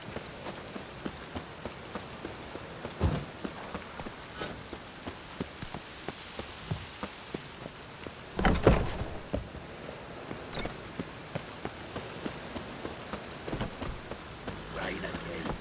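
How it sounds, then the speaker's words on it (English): Steady rain patters on surfaces in the video game The Witcher 3, a faint continuous hiss dotted with sharper drip ticks and a couple of louder splashy bursts. "Rain again."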